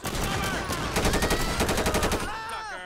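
Rapid bursts of shotgun gunfire during a Pacific Bank heist shootout in GTA 5 LSPDFR, a dense string of loud, closely spaced shots with a voice briefly calling out near the end.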